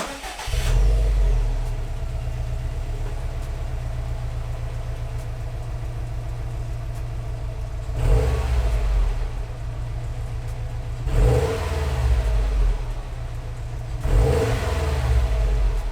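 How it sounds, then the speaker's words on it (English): A 2020 Subaru STI's stock exhaust idles with a steady low rumble, then revs sharply three times with pauses of idling between, fairly close and loud. "I'm gonna go ahead and just make a little clip of the stock exhaust."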